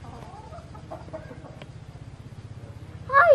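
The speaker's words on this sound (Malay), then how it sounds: "Ayam." Steady low clucking from a chicken runs throughout at a quiet level, ending with a sudden louder squawk.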